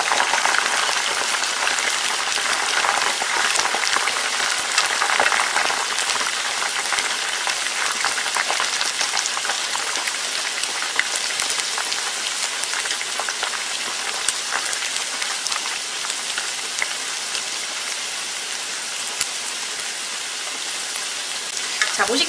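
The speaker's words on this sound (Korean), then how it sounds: "그때까지 튀겨주시면 돼요." Chicken deep-frying in hot oil for lazi chicken, a loud, dense, continuous crackling sizzle from close by that holds steady throughout.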